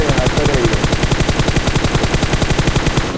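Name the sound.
gunfire in a battle royale video game scrim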